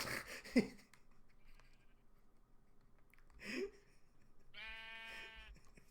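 A sheep bleats once in the Minecraft video game, a short, quavering, wavering cry near the end over faint background noise, with a soft sound and a brief bump earlier.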